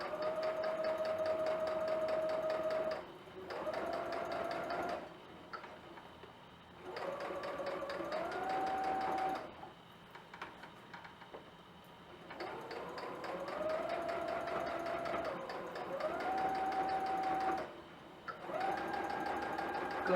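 Domestic sewing machine stitching a fabric hem along a seam, running in steady bursts of several seconds with short pauses between, a close, continuous mechanical whir with changing speed.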